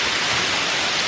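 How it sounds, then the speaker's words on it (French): Heavy rain pours in Kyoto, a dense, loud, even roar of water with no pauses, heard briefly and close, with no voices over it. "I was like expected rain, but not that much rain."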